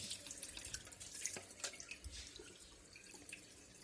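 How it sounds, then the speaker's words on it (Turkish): Water begins trickling through a cleaned water meter filter, faint dripping and light splashing close by, with soft irregular drips. "Ha, su geçmeye başladı."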